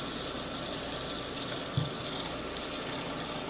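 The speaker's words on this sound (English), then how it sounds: "I'm going to put some cold water on them" Cold water poured over jar-grown sprouts in a bowl makes a steady broadband splashing and gushing, like a running tap filling a sink, with one soft thump partway through.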